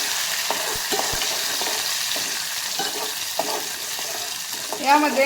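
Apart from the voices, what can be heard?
stirring and mixing dal in pan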